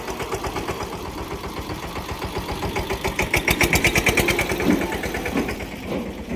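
A tractor engine runs steadily on a farm during wheat hauling, its rapid chugging pulse loud and close throughout, swelling slightly midway with a rattling edge.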